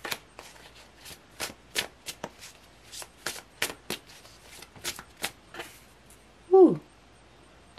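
A deck of tarot cards riffled in repeated quick snaps, a steady rhythm of crisp bursts close by, ending with a brief louder knock.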